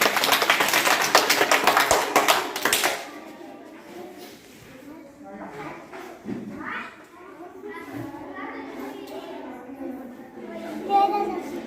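Children in a school-readiness activity clap their hands together in a dense, loud burst of applause for about three seconds, followed by an adult talking in a quieter room.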